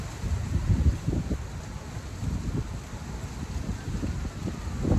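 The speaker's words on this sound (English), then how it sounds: "It's a little windy out here" Steady wind blowing outdoors with low rumbling gusts against the microphone, fairly quiet and continuous, with no voices.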